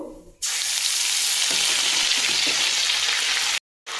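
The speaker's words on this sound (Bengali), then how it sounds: "আদাটা সুন্দর করে ভাজা হয়ে গেছে" Ginger paste sizzles in hot oil with whole cumin and bay leaf, a loud, dense, steady frying hiss that starts abruptly and cuts off just before the end.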